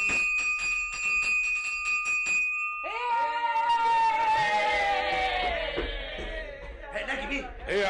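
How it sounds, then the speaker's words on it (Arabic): An electric school bell rings in a rapid metallic trill for a few seconds at the end of a class, then a crowd of voices rises in loud chatter and laughter. "اما اضرب الجرس بقى"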